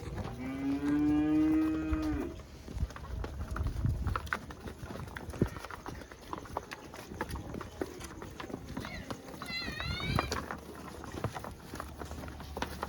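A buffalo lets out a long, loud moo, followed by shuffling hooves, movement and a shorter distant call.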